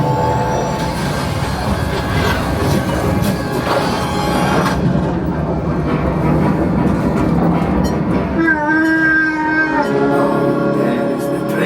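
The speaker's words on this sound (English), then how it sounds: "There is the train." Rumbling train passage on the Millennium Falcon: Smugglers Run theme park ride at Disney's Hollywood Studios, a loud sustained clattering roar with heavy low rumble, ending in whooshing, descending electronic effect tones.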